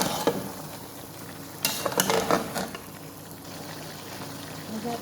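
Chopped tomato dropped into a frying pan of spiced chicken karahi, giving a soft bubbling sizzle with a short louder burst of spattering and stirring midway before settling back to a low simmer.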